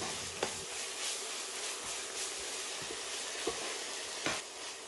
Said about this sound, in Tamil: இஞ்சி பூண்டு பேஸ்ட் நெய் எண்ணெயில் நல்லா வதங்கி அதோட பச்சை வாடை போய் நல்ல ஒரு வாசம் வரும்.